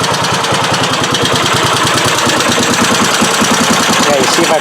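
A Suzuki SP400 motorcycle engine runs at a loud, steady idle close by, its rapid rhythmic firing overlaid with a fast metallic valve tapping.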